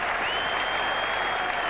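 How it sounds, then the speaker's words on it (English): A cricket test match crowd breaks into brief applause and cheering, a short, steady wash of clapping that carries from a distance. "A rare cheer."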